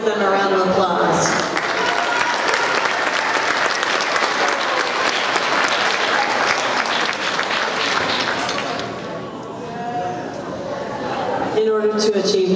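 At a school awards ceremony, an audience claps in sustained applause that thins briefly and then swells again. A speaker's voice is heard at the start and end.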